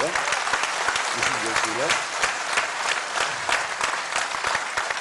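Dense audience applause fills a large arena at a political rally, sustained and loud, with a voice briefly speaking over the clapping.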